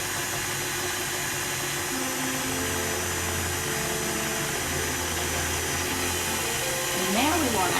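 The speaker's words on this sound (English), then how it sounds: "we'll put the mixer back and on low speed and mix in the coconut" An electric mixer hums steadily on low speed as flaked coconut is blended into cookie dough, a continuous motor drone running the whole time with a brief rise in pitch near the end.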